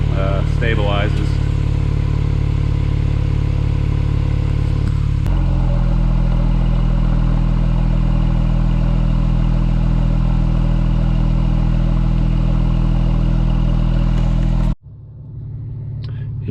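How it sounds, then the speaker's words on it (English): A Porsche 991.2 without PSE, fitted with a SOUL Performance exhaust, idles steadily after warm-up with a low, even burble, then a shift in tone before the engine sound cuts off near the end. "Okay, and this is after the idle stabilizes."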